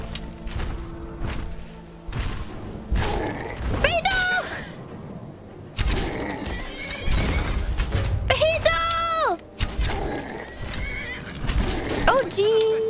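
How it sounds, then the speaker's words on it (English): Several loud, shrill whinnies from a horse in the video game Skyrim ring out close by, mixed with hoof clops and thuds, while someone talks excitedly over the commotion. "My horse!"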